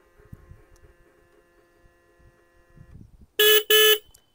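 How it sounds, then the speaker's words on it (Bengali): A 2025 Bajaj Pulsar NS200 single-ABS motorcycle horn sounds two loud, close blasts, each about a third of a second with a short gap, after a few seconds of low hum and faint handling noise. "দেখুন হর্নটা আমি দেখাচ্ছি"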